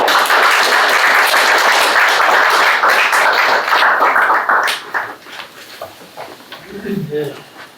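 Audience clapping fills the room after a three-day spirituality lecture by a pastor, a loud dense wash of applause that thins and fades after about five seconds, leaving scattered claps and faint murmuring.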